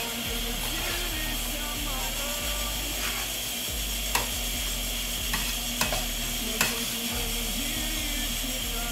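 A spoon stirs food in a sizzling pan while making escondidinho de carne seca, with a continuous frying hiss, periodic scraping clicks and a low background hum, close by.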